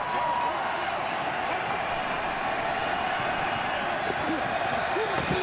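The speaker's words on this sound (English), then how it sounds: "Good, loud crowd here in Arlington." A loud, steady crowd roar fills a stadium in Arlington during an XFL football game between the Orlando Guardians and Arlington Renegades, a continuous distant wash of voices and noise with brief shouts rising out of it.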